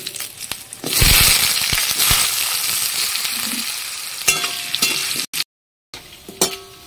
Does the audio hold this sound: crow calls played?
no